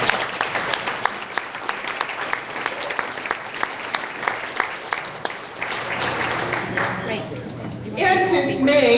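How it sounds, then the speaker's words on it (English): An audience at a civic club debate event applauds for several seconds, with individual claps standing out from the crowd, then the clapping dies down as a voice begins to speak. "they certainly deserve a round of applause"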